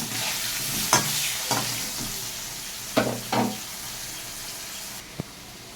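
Cut potatoes with cumin and dry chilli frying and sizzling in a pan, a steady hiss broken by a few sharp stirring clatters of a spoon against the pan, then a quieter moment and one last tap.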